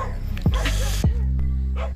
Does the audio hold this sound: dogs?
yes